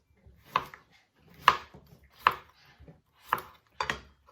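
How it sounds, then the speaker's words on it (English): A knife chops courgette on a board, five crisp, separate cuts falling at an uneven rhythm, close and clear with quiet gaps between them. "I'm also going to chop it down a bit so we don't get any really big chunks"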